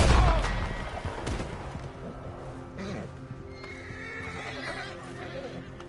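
A horse in a PS4 video game whinnies and moves on its hooves, opening with a loud low burst that settles into a steadier, quieter stretch with faint gunfire-like thumps.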